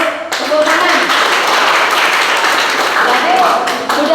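A classroom of students claps hands during an Islamic studies lesson on voluntary prayer: loud, dense clapping filling the room, with voices mixed in.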